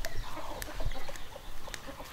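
Chickens clucking nearby in short scattered bursts while being caught for grilling by a riverbank, with brief thumps and rustling between the calls.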